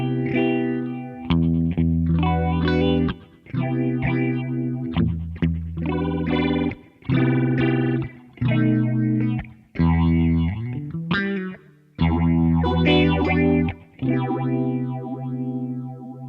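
A Behringer Bi-Phase phaser set to a sine wave with a single phase sweeps over sustained, distorted chords, the sound swirling with each strum as the chords stop and restart.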